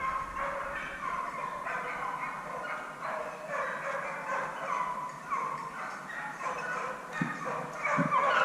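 Hunting dogs bark and yelp during a wild boar drive in the woods, a sustained chorus of barking and whimpering at middle distance that continues steadily and grows slightly louder toward the end.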